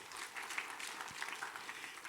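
Church congregation applauding during an Indonesian worship service, a soft, fairly distant patter of many hands clapping that holds steady for about two seconds, with no voices over it.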